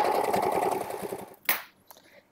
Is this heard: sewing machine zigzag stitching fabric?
yes